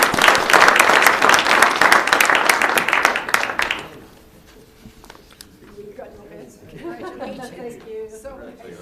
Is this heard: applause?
yes